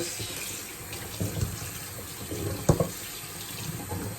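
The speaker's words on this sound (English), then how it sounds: "I'm going to use some cold water" Cold water running from a tap to rinse yarn, a continuous splashing hiss with a few louder splashes as the yarn is handled.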